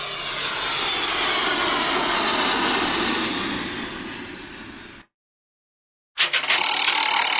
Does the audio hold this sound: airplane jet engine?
yes